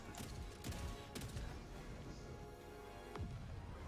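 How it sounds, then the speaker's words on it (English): Autocannon fire in Helldivers 2 booms in a few heavy, spaced bursts against a noisy battle backdrop, fairly loud and without speech over it. "Auto cannon's got him."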